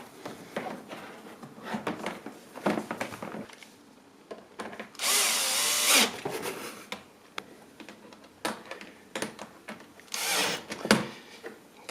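A power drill whirs in two short bursts, tightening the nuts on the plastic panels of an EJWOX composter tumbler, with scattered clicks, taps and handling noises between the runs.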